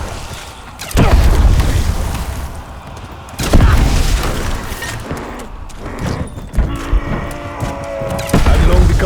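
Explosions in a tower defense video game, Voyage of Despair on hardcore, hitting as heavy booming blasts at irregular intervals over constant battle noise and clatter, close and loud.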